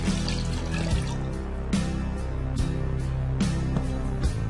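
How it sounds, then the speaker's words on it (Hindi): A glass of water is poured into a clay pot, a continuous gurgling trickle with a few splashy bursts, close and alone with no talk. "और ये 1 गिलास पानी भी हम इसके अंदर ऐड कर देंगे।"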